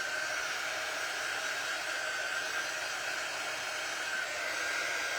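A small hair dryer blows steadily, a constant loud airy whir with a faint whine running without break, close by and alone.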